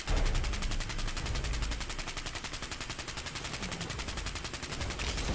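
A Handmade Rifle in Fallout 4 fires a long, rapid automatic burst as the magazine empties, each shot loud and close in a fast, even rhythm.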